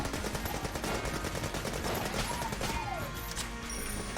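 Machine Pistol in Enter the Gungeon, rapid continuous small-arms fire with steady rattling shots throughout, mixed with game effects.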